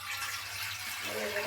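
Water splashing steadily into rice in a container, a continuous pouring hiss that shifts in tone toward the end as the level changes.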